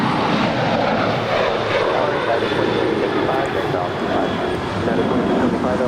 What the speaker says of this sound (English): We're looking at WestJet flight 1422 about to land there on the north side coming in from Edmonton